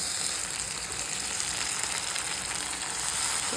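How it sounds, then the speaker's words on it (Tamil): Onion, tomato and ginger-garlic paste sautéing in a pan give a steady, close, even sizzle that holds without a break, with no talk over it. "வெங்காயம் வதங்கினோடனே இஞ்சி பூண்டு விழுது போட்டுக்கிறேன். கூடவே தக்காளியும் போட்டு வதக்கிடலாம்."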